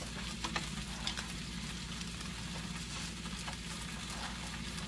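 Cheddar-stuffed brats sizzle on a Blackstone griddle after being flipped, producing a faint, steady crackling hiss over a low humming background.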